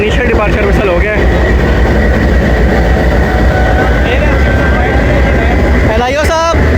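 Train departure at Jhang Sadar station as the 140 Down Sandal Express makes its first run, loud steady rumble and hum with a whistle-like tone, and people talking throughout.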